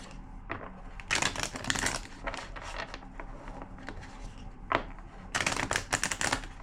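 Tarot cards are shuffled in several quick riffling bursts, close and crisp, separated by short pauses and a few single taps.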